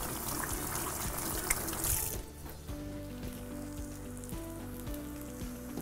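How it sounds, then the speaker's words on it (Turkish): Tap water runs into a sink as hands are washed in a home kitchen while saki köfte is being made, a steady close splashing for about two seconds before it stops and the quieter kitchen background takes over. "Şöyle bir elimi yıkayayım."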